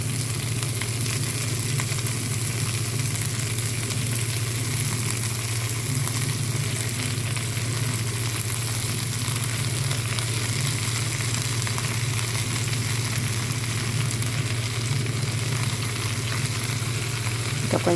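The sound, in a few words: drumstick (moringa) leaves frying and sizzling in a pan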